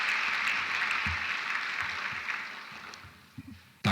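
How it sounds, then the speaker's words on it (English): An audience at a college science and mathematics awards ceremony claps for an honoree, a dense round of applause that gradually thins and fades, ending with a few scattered claps and a short bump near the close. "So let's please give him a round of applause."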